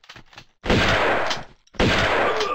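A gunshot from the Tomb Raider game level The Wreck: two loud, broad bursts of gunfire, each lasting about a second with a short gap between, after some faint clicks.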